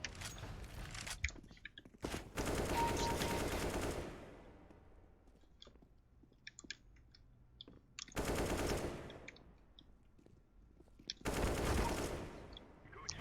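Bursts of automatic gunfire in the shooter Crossfire, three long loud volleys separated by quieter gaps filled with scattered single shots and clicks, close and sharp, with no speech.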